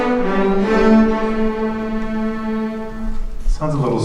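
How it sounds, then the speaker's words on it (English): Sustained, resonant instrumental tones carry the eight notes of the Dies Irae melody at a school winter concert, the notes running smoothly into one another at a slow, even pace, with a brief change in texture near the end. "And here's the 8 notes of the original Dies Irae."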